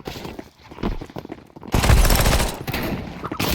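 Rapid gunfire from Counter-Strike 2 in an arms race match, a dense burst of shots rattling close and loud before tapering into scattered, quieter firing.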